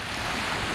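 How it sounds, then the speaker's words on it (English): Waves wash onto the shore of Lake Ontario in a steady, broad rush mixed with wind buffeting the microphone, continuous and fairly close with no voices. "I'm at the shores of Lake Ontario"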